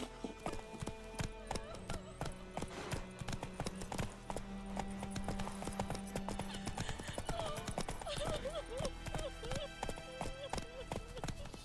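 Roach, the horse in The Witcher 3, gallops with rapid, rhythmic clip-clopping hooves and an occasional whinny, set against game music and a voice speaking.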